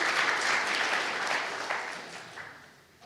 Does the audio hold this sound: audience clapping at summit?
yes